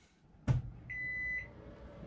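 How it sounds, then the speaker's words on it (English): A microwave oven in an RV switching on, with a sharp click followed by a steady electronic tone and hum lasting about half a second. "You just heard the microwave kick on."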